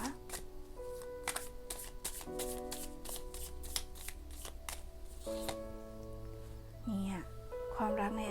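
Tarot cards are shuffled for a love reading in a quick series of crisp, close riffling snaps over soft tonal background music.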